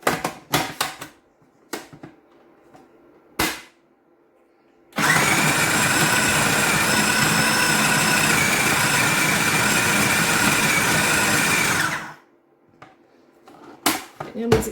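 Food processor minces meat for tahu walik, running in one loud, steady whirring burst of about seven seconds close by, bracketed by clicks and handling knocks while someone talks.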